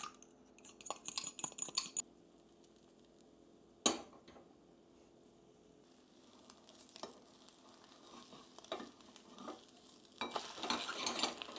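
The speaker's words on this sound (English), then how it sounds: "Beat the egg and fry them in a small pan with some oil." Beaten egg fries in oil in a small pan, with soft sizzling that swells louder near the end, broken by clinks and scrapes of a utensil against the pan, close and fairly quiet.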